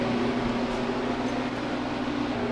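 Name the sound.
freeze dryer running in cooling mode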